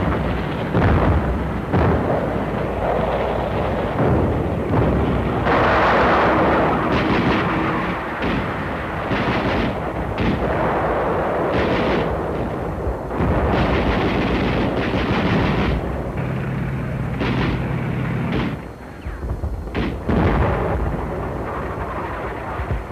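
Naval artillery barrage bombarding Saipan in World War 2, a dense, sustained roar of heavy booms and rumbling blasts, loud and continuous with overlapping thuds and a deep low-end rumble.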